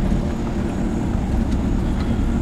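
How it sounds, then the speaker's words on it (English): A Volkswagen car engine starting and settling into a steady idle, a loud, constant low rumble with no voices over it. "We're going to turn the car on because we're going to be testing it while we're driving."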